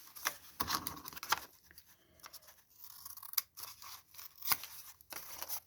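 Scissors trimming the corners of a paper journal cover, several crisp snips in uneven clusters close by, with soft paper rustling between cuts and no talking.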